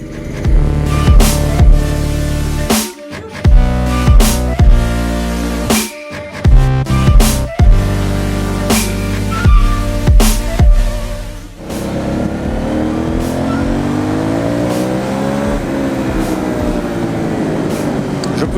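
An Aprilia Shiver 900 motorcycle revved hard in first gear, its engine snarling in a series of sharp, choppy bursts before settling into a steady, rising drone close by.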